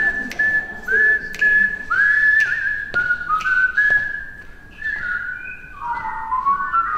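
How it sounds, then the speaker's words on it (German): A concert audience whistles a melody together, a bright wavering tune of sustained notes that slide between pitches, with a few sharp claps or knocks punctuating it, filling a hall during a brass band performance. "Jetzt wird gepfiffen."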